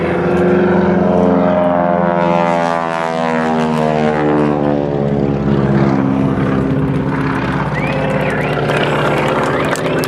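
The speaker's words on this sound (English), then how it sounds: "Give way to several warbird pilots going by here." Several propeller-driven warbird airplanes fly past at an air show, a loud droning roar that swells and then fades with a falling pitch as they go by.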